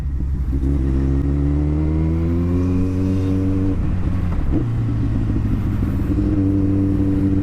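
A Kawasaki ZX14R sport motorcycle accelerates hard to overtake on a twisty road near a wind farm, its engine note climbing steadily up close, with a brief dip and clatter midway before pulling strongly again.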